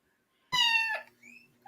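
A house cat gives one clear, close meow of about half a second in an otherwise quiet indoor room, with a faint second call trailing after it. No one talks over it.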